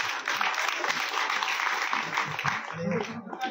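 A village crowd claps loudly to welcome a speaker at a political gathering, continuous dense applause over a few seconds that thins toward the end as a voice begins to talk.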